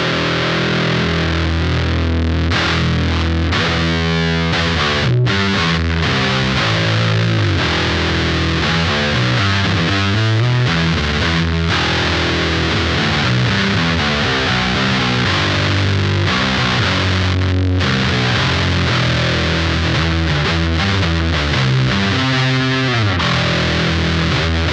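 An electric guitar plays through an Electric Eye Cannibal Unicorn HM-2 style distortion pedal, loud and continuous with thick saw-like buzz, chugging riffs and sustained chords, and no talking over it.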